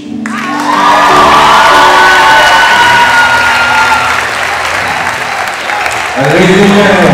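Loud live crowd applause with cheering and whoops for a comedian at a comedy show in Lagos, sustained clapping that swells then tapers while an announcer's voice carries over it.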